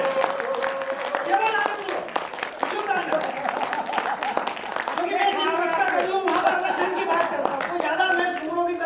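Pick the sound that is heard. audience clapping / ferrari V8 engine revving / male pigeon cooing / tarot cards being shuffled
audience clapping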